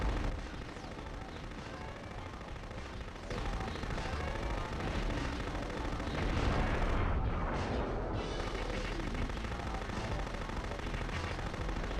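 An ED-209 robot in an ED-209 simulator game fires dense, rapid bursts of heavy gunfire that blend into a continuous loud roar with booming impacts, briefly easing partway through before resuming.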